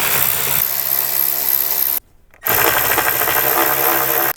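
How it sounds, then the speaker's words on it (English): A power driver takes out the 7mm dash screws on a Jeep Wrangler JK. A loud, steady whir runs for two seconds, stops briefly, then starts again for another two seconds, close up, with no voices. "Now we're going to remove these 3 screws, 2 on the front and 1 underneath"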